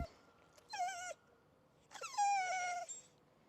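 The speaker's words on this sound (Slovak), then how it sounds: "kňučí preto, že ma prosí o to, aby som ho ešte raz pustila do vody" A Lagotto Romagnolo dog whines near water, giving two high, wavering cries, a short one followed by a longer drawn-out whine, fairly close over low background noise.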